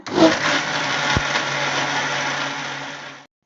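A mixer grinder whirs steadily on whole black pepper and whole cardamom pods, loud and close for about three seconds before cutting off abruptly, no voices.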